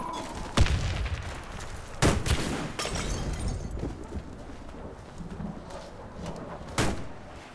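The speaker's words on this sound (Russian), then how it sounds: "Граната пошла!" Warface video game combat with a grenade blast and gunfire: several sharp loud impacts spaced a second or more apart over a steady background rumble, with scattered smaller shots between them.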